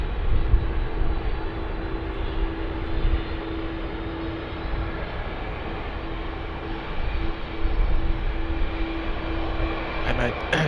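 An airliner's engines drone steadily on the runway at Sydney Airport, a loud continuous roar with a sustained tonal whine that swells slightly near the end.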